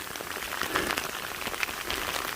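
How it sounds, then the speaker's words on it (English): Rain pattering steadily on a rocky Appalachian Trail path, a dense even hiss of drops striking stone and puddles nearby, with no voices. "Rain's coming down."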